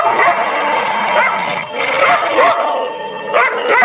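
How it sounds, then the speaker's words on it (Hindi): Sheru the dog barks loudly and repeatedly in a close, dense string of yelps and bow-wows, with whimpering tones mixed in. "शेरू सीमा को देखकर बहुत जोर जोर से भौंकता है।"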